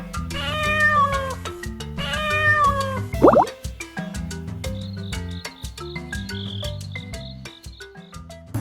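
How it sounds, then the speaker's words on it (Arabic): A cat meows twice in long, drawn-out calls, clear and close, amid farm-animal sound effects; a splashy chirp and faint clicking textures follow. "قطة."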